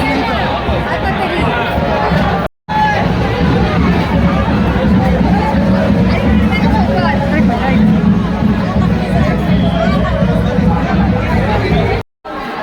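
Dense crowd at Ekvira temple, a continuous loud babble of many voices and shuffling close around, broken by two brief dropouts.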